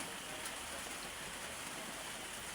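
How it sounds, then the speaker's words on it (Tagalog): Heavy rain falls steadily in a dense, unbroken hiss at night during a typhoon, loud and continuous with no voices. "Kamulo pang ulan."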